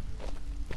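Footsteps crunch in a quick, even run of several steps in a video game, near and fairly loud with no talk over them.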